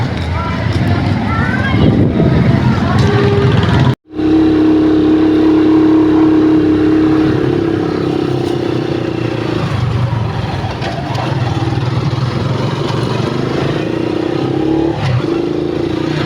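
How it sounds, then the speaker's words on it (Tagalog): A small tricycle motor engine drones steadily throughout, with a voice talking over it and a brief cutout partway through. "Kala nyo nakamotor ako, sumakay ako sa tricycle"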